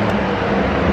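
A BMW M235i with an N55 engine passes close by as a loud, broad, continuous roar lasting about a second.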